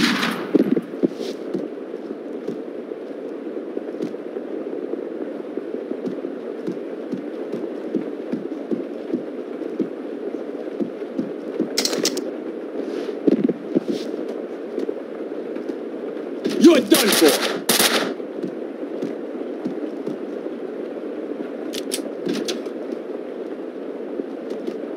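Gunfire in the Max Payne 2 video game pops in scattered sharp bursts over a steady low rumbling game background, with a few louder shots clustered near the middle.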